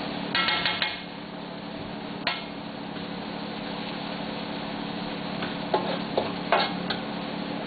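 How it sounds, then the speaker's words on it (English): Chilies, garlic and onions stir fried in a pan for chili chicken, a soft steady sizzle with a few clinks and scrapes of a utensil against the pan, fairly faint. "So just kind of like stir fry it a little bit around for about a minute."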